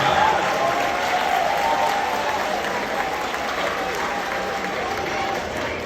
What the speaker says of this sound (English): round of applause for Principal Seeley